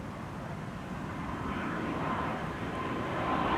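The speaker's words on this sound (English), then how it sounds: "E2 Embraer 195 going to Copenhagen" An Embraer E195-E2 jet airliner departs Amsterdam Schiphol Airport bound for Copenhagen, a broad distant engine roar that swells gradually and grows louder toward the end, with no talk.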